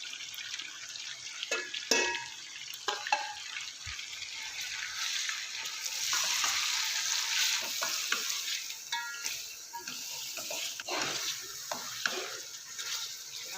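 Mutton for a pressure-cooker biryani sizzles and fries in a pan, with a steady crackle and occasional scraping stirs close to the microphone and no talking.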